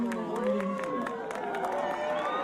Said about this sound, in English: The crowd is getting excited.